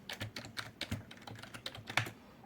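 Fingers typing on a computer keyboard, a quick irregular run of close, crisp keystrokes at moderate volume with no voices.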